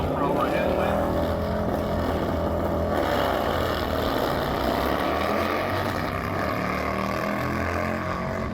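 Motorcycles in a side-by-side drag race at a dragway, a sustained loud engine roar that rises and shifts in pitch, heard under an announcer's commentary.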